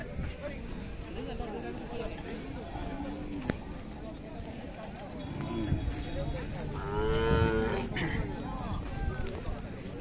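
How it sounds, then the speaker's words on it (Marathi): Khillar bulls at a cattle market, with repeated low mooing and lowing over steady crowd chatter and people talking nearby; a louder, drawn-out bellow rises near the end. "बैल बघू शकता, शेतीच्या कामासाठी मोठ्या मापाचे बैल"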